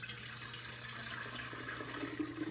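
Cold brew coffee trickles through a paper filter into a glass Chemex, a soft, close, continuous pouring and splashing that stays quiet and alone.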